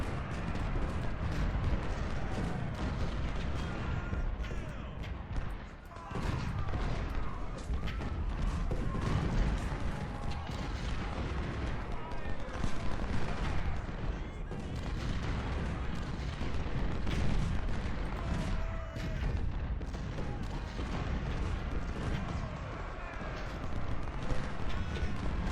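Dense, continuous battle din from the Ultimate General: Civil War strategy game at Malvern Hill, heavy artillery and massed musketry rumbling without pause, loud and layered, with occasional brief dips.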